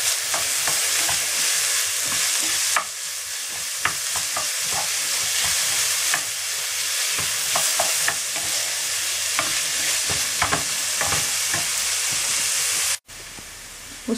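Finely chopped red beetroot stems frying with softened onion in a pan, a dense continuous sizzle broken by frequent spoon-stirring clicks and scrapes, close and steady until it cuts out near the end.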